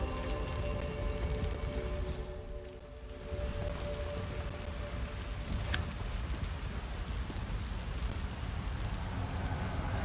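Steady rain in Hitman 3 patters across a surface in a continuous, even hiss, moderately quiet with no voices.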